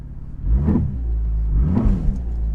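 A 2016 Cadillac ATS-V engine idles loudly up close and surges twice in low, rumbling revs against an engaged line lock, straining without rolling away.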